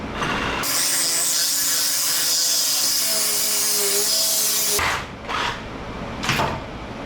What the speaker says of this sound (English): let's just cut it in half with the Sawzall, if we can.